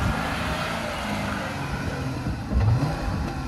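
A 2021 Jeep Gladiator's engine revving as the truck speeds up toward a jump, a steady mid-range drone that swells louder near the end, heard close with no talk.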